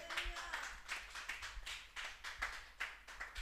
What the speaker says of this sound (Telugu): ఒకసారి చప్పట్లు కొట్టండి గట్టిగా.